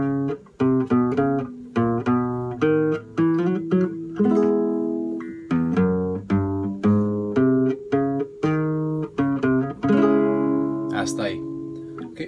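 A guitar plays a phrase from a folk song, with plucked notes and strummed chords in a steady rhythm, close and clear, with no talk over it.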